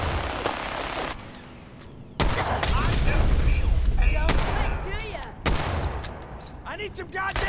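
Minigun fire in a Fallout 4 firefight, loud sustained spinning bursts of gunfire that stop and restart, mixed with heavy booms and impacts, with voices and combat chatter heard over the shooting.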